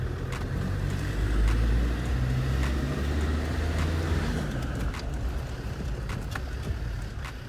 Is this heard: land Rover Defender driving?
yes